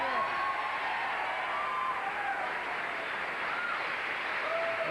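Studio audience applause at a late-night television talk show, a dense, steady wash of clapping lasting throughout with a few scattered whoops.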